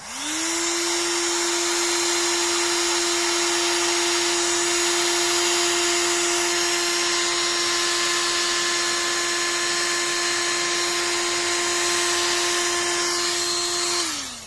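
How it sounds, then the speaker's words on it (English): Steady whining drone of a heat gun running continuously for about fourteen seconds, close and loud, while shrinking heat shrink tubing over wires for a horn installation, spinning up at the start and winding down at the end. "And then we're going to hit it with a heat gun."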